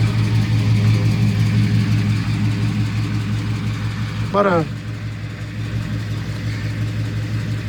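A 1984 Chevy C10 Silverado pickup truck's engine idles steadily with a low, even drone after a cold start, and someone speaks briefly over it.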